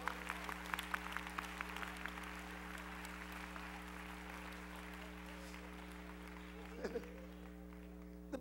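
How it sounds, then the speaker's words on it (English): Audience applause at a church sermon: a sustained spread of clapping from a crowd, fairly faint and distant over a steady electrical hum, with a brief murmur near the end. "Clap now if I dare."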